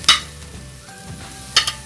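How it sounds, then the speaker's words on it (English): Lamb sizzles steadily as it sears in a hot pan, with a couple of sharp clatters from a utensil at the start and near the end. "I'll go ahead and put the meat on there. Sizzle there really good."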